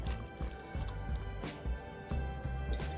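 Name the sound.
dump cake ingredients being dumped into a bowl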